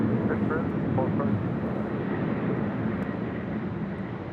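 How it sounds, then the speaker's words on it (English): A Hawaiian Airlines Airbus A330-200 jet at LAX gives off a steady, broad engine roar that fades slightly over several seconds, with faint talk underneath. "This A330-200, 8 years of age, delivered to Hawaiian Airlines in January of 2014."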